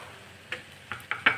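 A spoon scrapes through chenna pulao mixed with coriander and lemon in a pan, a few short clinks and scrapes at a low, steady background hiss.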